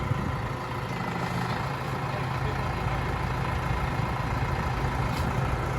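A tractor engine runs steadily while lifting a large tree branch, a close, continuous low rumble that holds at an even level throughout with no clear breaks.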